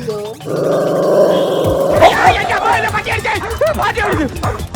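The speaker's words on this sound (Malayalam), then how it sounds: "വീട്ടിലെ പട്ടി അഴിച്ചു വിട്ടേക്ക്" A low, rumbling dog growl sustains for a couple of seconds, then gives way to excited overlapping voices and chatter nearby.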